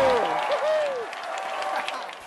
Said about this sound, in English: Cheers and applause in the mission control room.